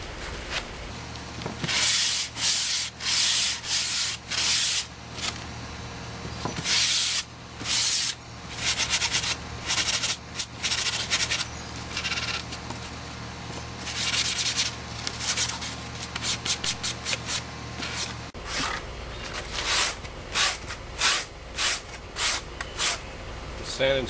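Sand screen rubs back and forth along the edge of a homemade skimboard, rounding it before glassing, in steady rasping strokes that repeat close up, with a low hum underneath that drops out near the end.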